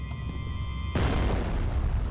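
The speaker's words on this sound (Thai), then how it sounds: "โอ้ระเบิดโคตรแรงซีโฟระเบิดแรงจริง" A C4 charge detonating in the shooter game F.E.A.R., a sudden loud booming blast that cuts off a tonal hum and leaves a dense rumbling roar filling the rest of the moment.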